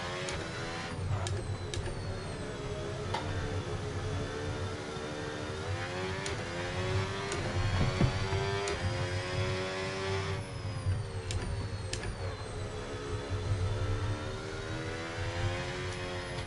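Race cars idling and revving on a Qatar circuit formation lap in a sim racing game, a steady layered engine drone with shifting tones and occasional throttle blips, continuous throughout with no talk.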